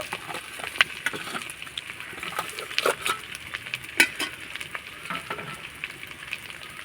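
Mashed boiled potato with crushed ginger fries in a wok, giving a soft steady sizzle broken by scattered crackles and the occasional scrape of a stirring utensil, with no voices.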